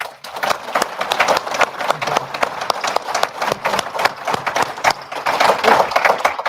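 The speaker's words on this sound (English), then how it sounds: "Let's give them all a hand of applause." Audience applause after a South Dakota legislative session recap panel, a dense, steady patter of many hands clapping at close range for the full length, with no talking over it.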